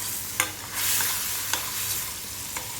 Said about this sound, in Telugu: కొద్దిగా పసుపు, ఒకసారి అంతా కలుపుకుందాం.